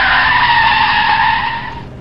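A race car scrapes along the wall at Homestead in Forza 6, producing a loud sustained grinding screech that holds steady for most of its length and then fades over the final half second.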